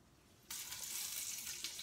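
Seasoned frozen chicken hits a hot pan on the stove and bursts into a loud, steady sizzle and crackle, close up, continuing without pause.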